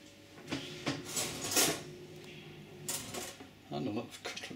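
Cutlery and dishes handled in a hotel apartment kitchenette in Santiago, a few quiet clinks and metallic rattles in scattered bursts, close and faint.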